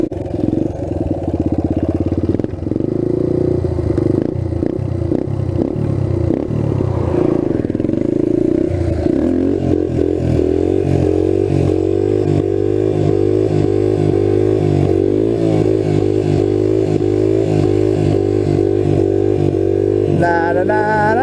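A restored trail bike engine runs as the bike rides down the road, a loud steady motor drone with some clatter and shifting revs throughout, rising and falling in pitch, no speech over it.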